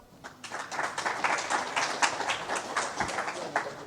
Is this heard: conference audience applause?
yes